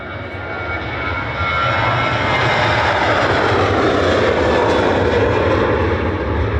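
A jet airliner on its take-off run from Manchester Airport, bound for Tenerife South: a loud, sustained engine roar that swells and holds steady over several seconds, heard alone.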